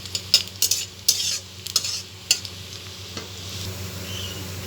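Onions frying until brown in a pan for a red lentil and mashed potato dish, a low steady sizzle broken early by several sharp clinks of a spoon stirring against the pan, then easing to a quieter frying hiss.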